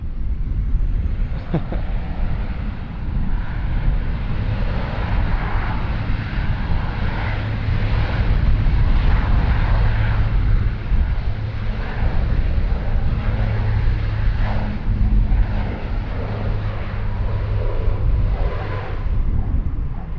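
Dash 8 turboprop airplane at Sydney Airport, a loud steady engine and propeller drone that stays close and constant for the whole stretch, with no talking over it.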